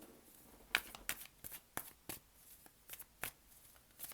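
Tarot cards being drawn and handled, a string of crisp separate flicks and slaps of card stock at an uneven pace, close and fairly quiet with no speech.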